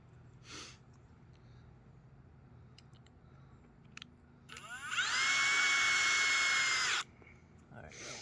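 A power drill drives a number 6 hex washer head screw into a railroad tie on a section of track, one steady whine lasting about two seconds after a few faint clicks and knocks.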